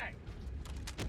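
Magazine reload in Helldivers 2, heard as a short mechanical clatter of creaks and clicks over steady game noise.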